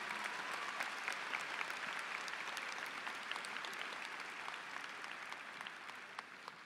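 A large crowd at a high school graduation applauds steadily, a dense wash of clapping that continues throughout and fades slightly toward the end.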